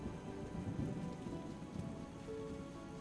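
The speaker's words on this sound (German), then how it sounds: "Regnet es schon die ganze Zeit oder hat es jetzt erst kurzzeitig oder kurzfristig, wie auch immer, mit dem Regen angefangen?" Steady rain falls on surfaces in The Witcher video game, with low rumbles of thunder rolling underneath, a continuous, fairly soft storm ambience with no voices.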